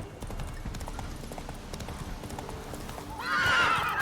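Roach, a horse in The Witcher 3, gallops with a steady clip-clop of hooves through most of the stretch, then gives a loud, close whinny near the end over a low ambient bed.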